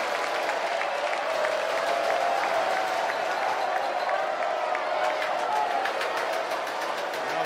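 Baseball stadium crowd cheering at a college game, a sustained roar with scattered claps and shouts as the count runs to three balls, announcer talk faintly in the mix.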